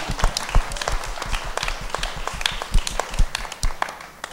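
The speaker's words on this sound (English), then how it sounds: "Round of applause to everybody." Audience applause at an evening event, scattered sharp claps from a modest crowd, close and uneven rather than a dense roar, continuing steadily throughout.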